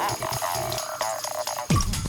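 Half a glass of water is poured into a pot of cauliflower and peas for pav bhaji, giving a close, short splashing pour that gushes louder near the end.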